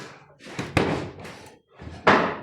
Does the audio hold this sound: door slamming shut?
yes